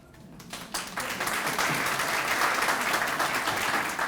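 Audience applause at the Voices of Oberlin exhibition reception, starting sparse after a brief quiet moment and swelling within a second into steady, full clapping from a roomful of people that holds to the end.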